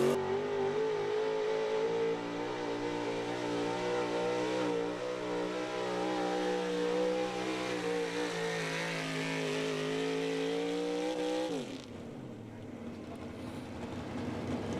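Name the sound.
1971 Chevy pulling truck engine revving at truck pull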